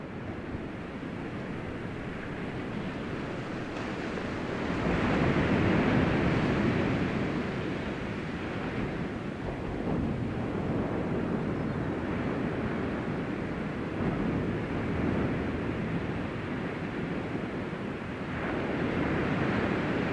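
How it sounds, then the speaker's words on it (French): Ocean waves washing in continuously as steady broadband surf with gentle swells in intensity, some wind noise over the microphone, no voices. "Tout en écoutant le bruit des vagues de l'océan, placez votre corps dans une position confortable."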